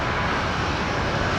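A Link Airways aircraft taxis at Brisbane Airport at night toward the general aviation parking area, giving a steady, fairly loud engine rumble and whine heard close and unbroken.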